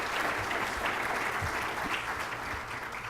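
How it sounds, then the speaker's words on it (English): Steady, dense applause from a business awards audience fills the room for the whole stretch, loud and continuous with no pause. "Let's give these people a round of applause."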